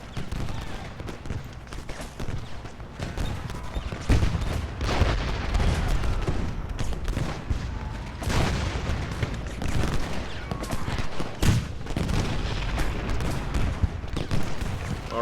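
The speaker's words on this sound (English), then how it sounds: "Not before Excelsior gets a nice volley right into their backside." Ultimate General Gettysburg battle audio fills with dense musket volleys, crackling gunfire layered with booming shots and rolling bursts that come steadily for the whole stretch.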